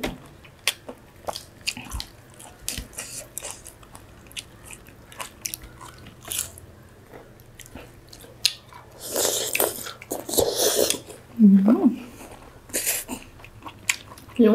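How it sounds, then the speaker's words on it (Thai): Squid being chewed close to the mouth during a meal of Thai spicy salad with cooked shrimp and fresh vegetables, with wet, crunchy bites and smacking in bursts, louder toward the end. "หมึกเคี้ยวหน่อย"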